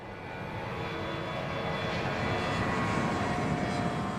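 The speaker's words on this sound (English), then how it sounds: "It's probably one of the best 757s built, probably one of the best corporate airplanes built." Jet engines of a Boeing 757 corporate airliner in flight make a steady, loud broadband roar with a faint high whine. It holds level with no talk for about four seconds.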